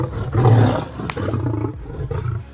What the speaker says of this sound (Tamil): இந்த சிங்கத்தோட உருமலை கேட்டாலே உங்களுக்கு தெரியும் அது ஏதோ பயங்கர கோபத்துல இருக்கு போல